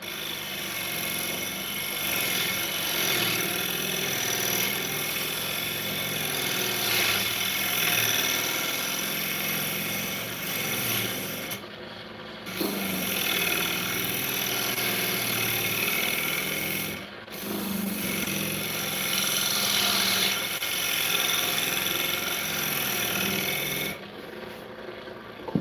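A wood lathe spinning a bowl blank while a tool cuts it deeper, giving a steady close whirring grind that runs continuously with a few brief breaks, no talk over it.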